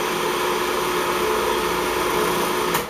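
A food processor churns graham cracker dough in a steady, continuous whir for the whole stretch, loud and close, with a faint clatter near the end and no talking.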